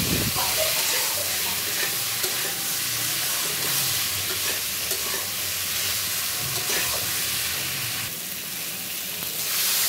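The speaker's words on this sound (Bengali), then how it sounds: "আজকে আমি এভাবে কষিয়ে রান্না করব" Vegetables sauté in a hot pan for a curry, cooked down without being fried first, giving a steady, close sizzle with occasional scraping stirs.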